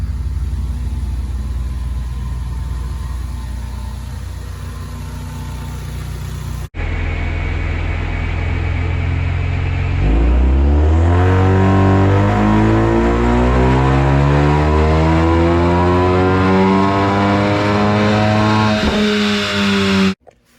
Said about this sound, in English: Getting all warmed up for the dyno now.